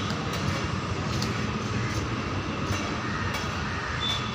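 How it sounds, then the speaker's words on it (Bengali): A 12-coach ICF passenger train rolls through a railway station, giving a steady, moderately distant rumble of wheels and coaches with faint high squeals. "চলো ট্রেন চলে গেল।"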